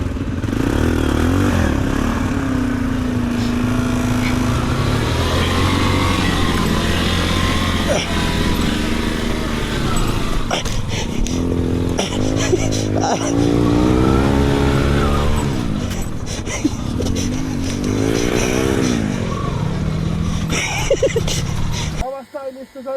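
Motorcycles, including an R15, FZ v2 and NS200, rev hard while stuck on a rough mountain dirt road, with loud continuous engine drone and rising revs throughout, voices talking over it.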